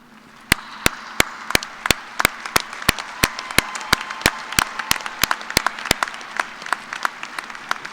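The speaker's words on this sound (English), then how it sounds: "I ask that you, our graduates, please stand and applaud their contributions to your success." Graduates at a fall commencement ceremony clap to honor faculty and staff, a fairly sparse, steady clapping with sharp distinct hand claps standing out over a soft crowd bed for several seconds.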